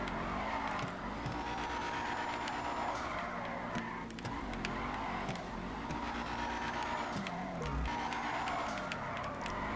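A car drifting around a player-built track in GTA 5 Online, its engine roaring steadily with rising and falling revs and tires squealing through the slides, loud and continuous throughout.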